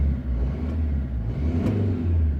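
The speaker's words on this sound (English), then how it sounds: "As you can hear, I can rev here." A Mercedes-Benz Vito van engine with fault codes P0546 and P246364 idles with a steady low rumble, its pitch rising and falling slightly as it is revved, close and continuous.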